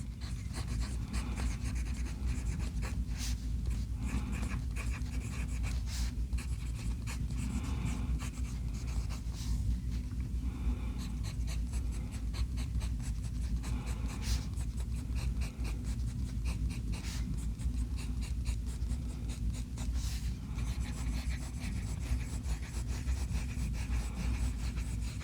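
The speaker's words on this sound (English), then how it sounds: "As you might be able to hear, the nib is really smooth and it writes wet." A Diplomat Cobra fountain pen with a smooth, wet nib writes Diamine ink on paper, making soft, close, continuous scratchy strokes with brief pauses between words.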